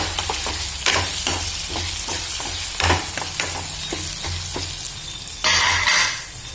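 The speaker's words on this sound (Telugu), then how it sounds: "పచ్చిమిరపకాయలు వేసి ఇలా వేపుతున్నాను" Green chillies and tomato frying in a pan, with a steady close sizzle broken by regular scraping strokes of the spatula and a louder burst of sizzling near the end.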